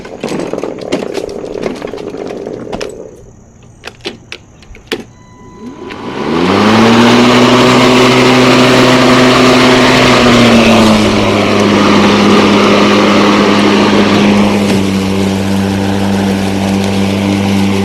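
A Greenworks lawn mower starts up and runs steadily, its loud, close engine-like hum holding a constant pitch after some scattered clicks and quiet handling noises at first.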